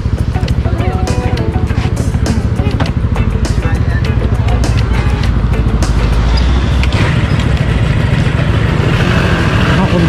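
A two-stroke Honda Dio 90cc scooter is ridden hard, its engine a loud, continuous buzzing drone with rhythmic pulsing and wind rush throughout, while voices talk over it.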